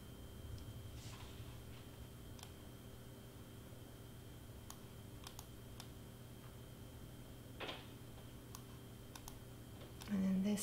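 Soft, sparse clicks from a computer mouse while designing in Canva: scattered single taps spread across a quiet room tone, with a brief louder noise at the end.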